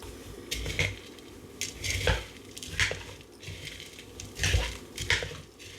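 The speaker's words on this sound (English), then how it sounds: "I'm going to mix this well." A small spoon mixes Mexican keto chicken casserole ingredients in a bowl, making about half a dozen close clinks and scrapes in an irregular rhythm against a quiet background.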